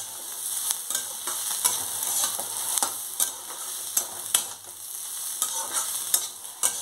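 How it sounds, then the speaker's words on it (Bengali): Bottle gourd peel with green chili stir-frying in a pan in a Bengali kitchen, a steady sizzle broken by regular scraping and tapping strokes of a spatula, close and fairly loud, with no talking. "দেখুন এটা আস্তে আস্তে ভাজা ভাজা হয়ে গেছে এবং পরিমাণে অল্প হয়ে গেছে।"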